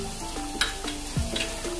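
Keema filling for stuffed karela frying and being stirred in a pan, with a steady low sizzle and brief scraping stirs, close and moderately loud, no talking.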